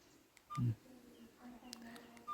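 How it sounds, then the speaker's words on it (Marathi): A mobile phone dials a call, with a single short tone burst near the start and faint keypad-like blips afterward, quiet and close, over low room noise. "हिला एक नातवा फोन लावूया थांबा"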